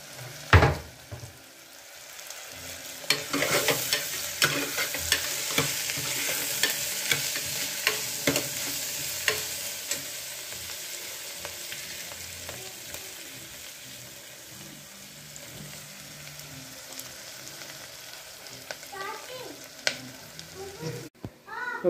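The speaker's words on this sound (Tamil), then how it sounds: "3/4 ஸ்பூன் மஞ்சள் பொடி, காரப்பொடி. இதையும் இதுலேயே போட்டு வதக்கிக்கணும்." Turmeric and chili powder being stirred and sautéed in a pan for an aloo masala, with scraping spoon strokes, a soft sizzle and occasional clinks across a long stretch.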